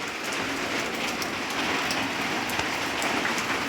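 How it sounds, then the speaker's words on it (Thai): Steady rain, a fine drizzle, pattering on surfaces, a dense continuous hiss with scattered close drop taps, moderately loud and even throughout with no voices. "ฝนตกฝนตกพี่น้อง"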